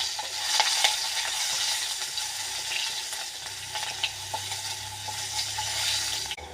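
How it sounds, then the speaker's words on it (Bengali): Onion and whole cumin seeds fry in oil in a wok, a loud, close, dense sizzle with frequent crackles and a few stirring scrapes, continuing steadily throughout. "তারপর তেল দিয়ে দিছি কড়াইতে, গোটা জিরা দিয়ে দিছি, এবার পেঁয়াজ দিয়ে দেবো"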